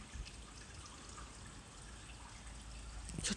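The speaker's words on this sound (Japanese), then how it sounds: "なんで水の音がするの。" Faint water trickles and drips in a quiet, echoing tunnel, a soft steady background with a slight swell toward the end.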